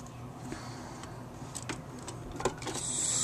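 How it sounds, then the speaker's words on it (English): Card stock being fed through a Xyron machine, giving faint mechanical ticks and clicks with a soft rising hum at the end, heard close and alone. "I'm going to actually run this through my Xyron machine."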